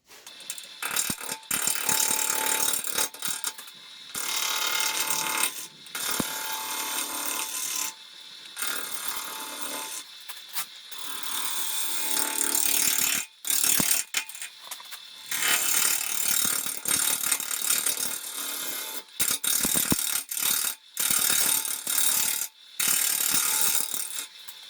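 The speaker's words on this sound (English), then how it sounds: "I'm going to carbide this back into whatever best shape I can get" Carbide tool shaping a maple burl wood piece: repeated bursts of harsh scraping and rasping cuts, each lasting a few seconds and separated by brief pauses, loud and close with no voices.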